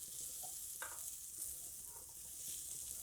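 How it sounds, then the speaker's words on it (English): Spiced potato and okra stir-fry being stirred in a pan, with a soft steady sizzle of frying and a few light scraping stirs over three seconds, fairly quiet and without talk. "And stir. This helps coating all the potatoes and okra with the spices."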